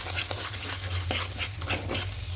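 Pea kachori filling gets stirred in a pan with soft scraping strokes and a faint background sizzle, the spoon scuffing rhythmically against the metal, quiet and close.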